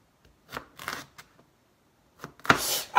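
A knife slicing vegetables into thin slices on a cutting board in a home kitchen, a few short crisp cuts spaced apart, then a louder cluster of quick slicing strokes near the end.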